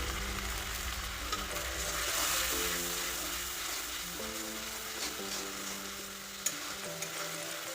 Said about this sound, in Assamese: এতিয়া এইখিনি কেঁচা গোন্ধ যোৱালৈকে ভালদৰে ভাজি ল'ম।